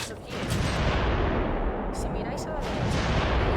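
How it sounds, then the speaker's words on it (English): Heavy explosions and artillery-like blasts from the shooter video game Haze, a loud continuous rumble of detonations with sharp bursts, while someone speaks over the battle. "Yes, there was explosions on the other car."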